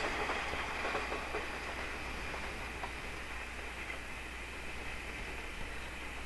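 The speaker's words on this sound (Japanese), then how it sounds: "当時は、このような、貨物が走っていました。" A freight train on the JNR Hokuriku Main Line in 1983 rolls past in a steady, continuous rumble with faint wheel clatter, the broadband noise holding constant and fairly distant throughout.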